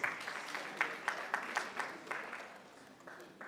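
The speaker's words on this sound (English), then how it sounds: "Please give me a round of applause" Quiet applause from an audience at a panel session on e-government in Nigeria, a spread of distant hand claps that slowly thins and fades over a few seconds.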